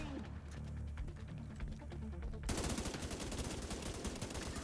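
Rapid automatic gunfire from an enemy in the video game The Division 2, a dense, steady burst of shots that starts abruptly halfway through and continues to the end, under faint background game noise.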